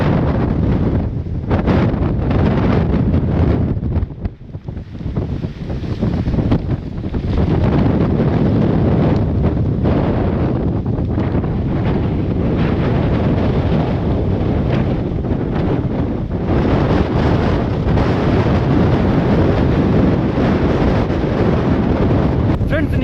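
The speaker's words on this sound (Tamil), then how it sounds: "இப்போ கூட காற்று சவுண்ட் தான் உங்களுக்கு கேட்குமே" Loud, sustained wind roaring across the microphone in heavy gusts on a mountain top at Megamalai, with a short lull early on and a muffled voice faintly underneath.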